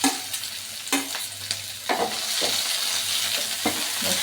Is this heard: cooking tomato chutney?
yes